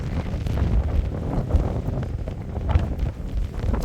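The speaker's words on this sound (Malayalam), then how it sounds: "നല്ല കാറ്റ്" Strong wind buffets the microphone at Amappara, a hilltop viewpoint on the Ramakkalmedu trekking route, a steady low roar with gusty surges throughout and no voices.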